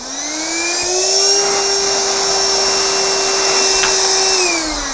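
A budget Winso 250100 car vacuum cleaner whines steadily at a high pitch, motor spinning up at the start and winding down near the end, close and loud.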